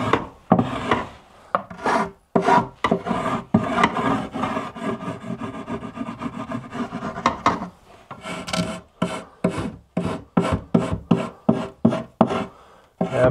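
Wood being rasped or sanded by hand in a corner and along a flat face while finishing a dressing cabinet, close and loud, with rhythmic scraping strokes, steady at first and then breaking into short separate passes.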